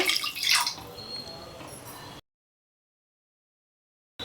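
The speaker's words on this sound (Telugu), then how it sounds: "రెండు గ్లాసులు వాటర్ వేసుకోవాలి" Water splashes and gurgles briefly into a cooking pot of tamarind-based egg omelette curry at close range, then cuts to silence.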